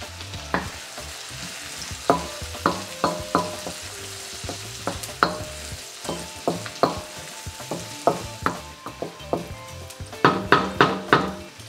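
Garlic and onions sauté in a pan for a Bicol Express, a steady sizzle broken by repeated sharp clinks and scrapes of a utensil stirring against the metal, fairly close and with no one talking.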